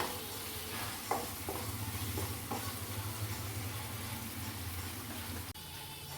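A sauce for macaroni is stirred in a pan after salt is added. A steady sizzle carries a few soft spoon scrapes, close by, with no talk.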